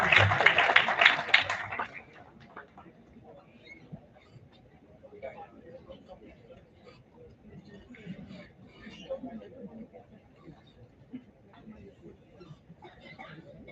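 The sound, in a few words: round of applause at a conference ceremony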